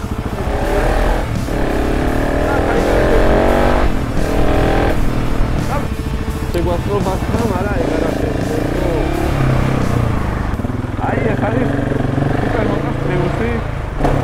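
A motorcycle riding through city traffic, its engine droning and revving loudly up close, with other vehicles around and a person talking over the engine.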